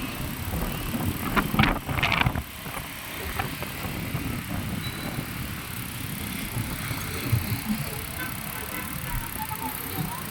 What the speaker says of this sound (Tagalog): Ang lakas ang hangin naman oh